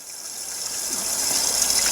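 Hose pipe water spraying and splashing over Corvette C5 engine parts laid on tiles, a steady close hiss and gush of running water throughout with no talking.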